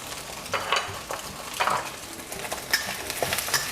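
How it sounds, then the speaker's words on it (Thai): Chinese sausage stir-fried in a pan for mala fried rice, with a steady sizzle and repeated scraping stirs of a utensil against the pan. "ผมจะใส่ กุนเชียงพันสุกลงไปเลยนะครับ"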